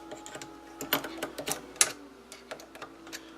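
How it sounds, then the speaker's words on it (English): Clamping screws on a thickness planer are snugged up, giving quiet, irregular metallic clicks and ticks, with a few sharper taps scattered among them. "So tighten one of these clamping screws on each side, just enough to hold it."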